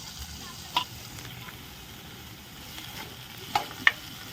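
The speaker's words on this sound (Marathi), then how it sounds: "टोमॅटो अगदी फ्राय करून घेते" Chopped onion and tomato fry in a pan for paneer bhurji, giving a soft, steady sizzle with a few light clinks of utensils, heard faintly and close.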